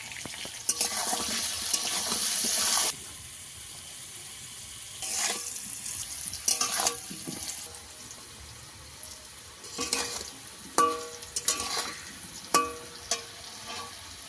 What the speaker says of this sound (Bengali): আলুটাকে ভালো করে ভেজে নিতে হবে লাল লাল করে।